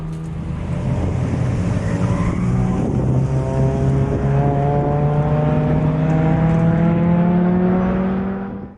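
Race cars, a Mazda 2 and an MX-5, lap the inner circuit at Blyton Park. Engine notes climb steadily and layer together, loud and close, holding at high revs for most of the run before easing off at the end.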